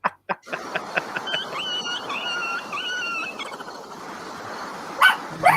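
A chained dog barks loudly in a few sharp yips at the start and again near the end, with a steady background hum and some faint whistling tones between the barks.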